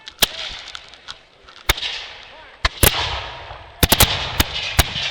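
Muskets fire in a historical reenactment skirmish, sharp loud cracks coming irregularly, some single and some in quick clusters, near and far, each trailing into rumbling echo and noise, with no talking.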